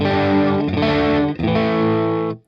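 A distorted electric guitar on the bridge and middle pickups combined strums two sustained chords, thick and slightly chorused, loud and close, fading out at the end.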